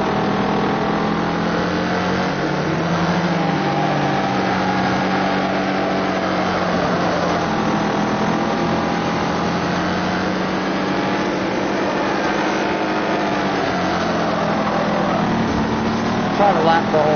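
Race car engine in the video game Wreckfest, a continuous mid-pitched engine drone with gentle rises and falls in revs, steady and fairly loud, with a voice talking over it.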